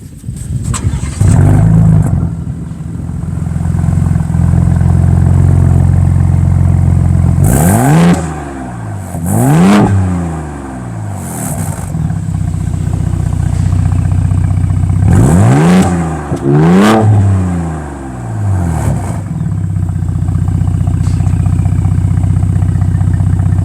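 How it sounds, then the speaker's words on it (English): A 2023 Ford Bronco Raptor starts with a loud burst and settles into a heavy idle, then its exhaust roars through two pairs of sharp revs that rise and fall, close and loud, with no talking. "I will fire this up so you guys can hear the exhaust."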